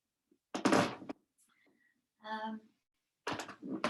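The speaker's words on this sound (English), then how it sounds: "I'm on a really creaky floorboard. Sorry for the sound effects." A wooden floorboard creaks under shifting weight during a yoga session, with one short groaning creak between bursts of nearby movement noise.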